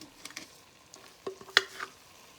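Vegetable Mexican rice seasoned with salt and black pepper is stirred in a frying pan: a few soft scrapes and clinks over a low, steady sizzle, with one sharper knock near the middle.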